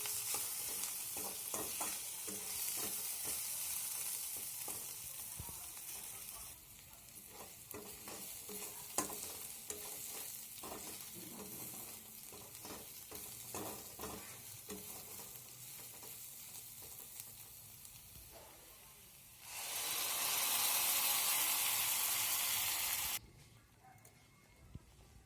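Onions fry with tomato paste in a pan, a steady sizzle broken by repeated scraping stirs, with a brighter, louder burst of sizzling near the end before it drops away.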